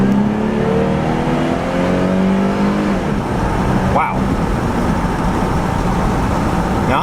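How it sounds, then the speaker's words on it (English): A 2008 GMC Envoy SLT, rear-wheel drive, accelerates hard, its engine note climbing steadily and loud as heard from inside the cabin, with a brief shift-like break midway. "Let's go ahead and hit the gas down and go."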